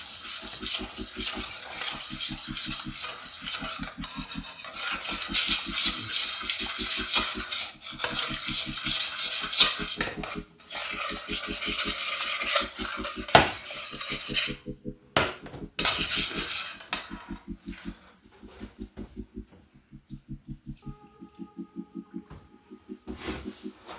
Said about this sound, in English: You want to keep stirring this